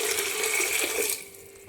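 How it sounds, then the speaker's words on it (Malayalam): Cold water pouring steadily into a bowl in a kitchen, a continuous close splashing stream that thins out toward the end. "3 കപ്പ് തണുത്ത വെള്ളം ഒരു പാത്രത്തിലേക്ക് ഒഴിച്ചു കൊടുക്കാം"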